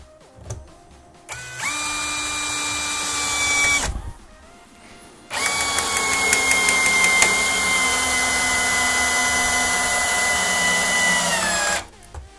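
A Makita DHP481 cordless drill drives a 140 mm screw, with a short whining burst, a pause, then a long loud continuous whir that rises slightly in pitch as the screw goes in, close up before stopping abruptly.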